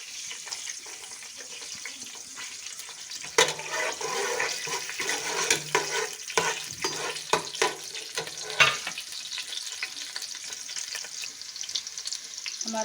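Finely chopped garlic sizzles in hot oil for a tempering, a steady crackling fry with several louder bursts and stirring clatters, no talk.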